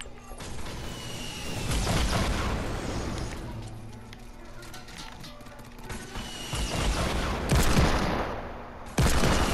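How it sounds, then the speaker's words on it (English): Rapid bursts of gunfire in a Fortnite duo match, loud and dense, with repeated volleys of shots and sharp reports running throughout, plus a few whooshing mechanical sounds between bursts. "Raheem, you shooting someone?"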